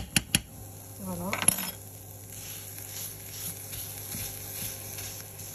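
Onions with a spoonful of garlic frying in a pan, a soft steady sizzle running throughout after a few sharp clinks and utensil scrapes at the start, with a little talk near the beginning.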